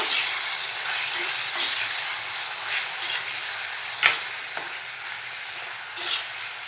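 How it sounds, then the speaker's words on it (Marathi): Washed goat mutton sizzles in a pan with browned onions, a steady close frying hiss broken by a few sharp stirring clatters and spits, with no talk. "आता आपण धुवून घेतलेलं बकऱ्याचं मटण घालूया आणि परतवून घेऊया."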